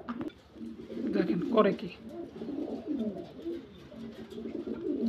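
A pair of Spanish Pouter pigeons coo repeatedly at close range, their low, throaty, rolling calls running beneath someone talking.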